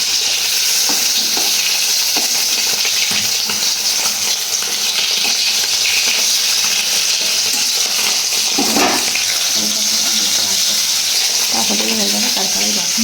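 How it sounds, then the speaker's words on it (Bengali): Fish sizzling as it fries in a pan at home, a continuous close crackle of oil with occasional clinks and scraping of a utensil stirring, and a faint voice briefly under the sizzle. "এই যে দেখো মাছটা ভাজা হচ্ছে"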